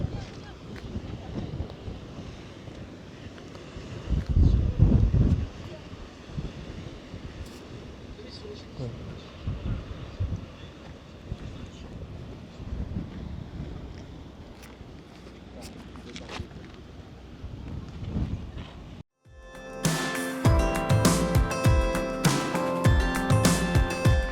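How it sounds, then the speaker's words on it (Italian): Strong wind buffets the microphone with a steady roar and gusts by the Aragon stairway in southern Corsica, and people talk under it; near the end it cuts to different, brighter sound. "c'è un vento pazzesco"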